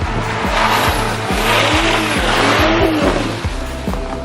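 A BMW 840i Gran Coupe with rear-wheel drive drifts, tires squealing loudly and continuously over a steady engine drone with rhythmic revving pulses, close and alone with no talking.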